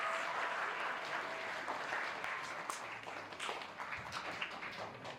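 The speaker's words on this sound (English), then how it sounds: "Can we have another round of applause for them" Audience applause at a 2024 multicultural sharing event in Happy Valley-Goose Bay: a steady, dense wash of many hands clapping that keeps going for the full five seconds with no voices on top.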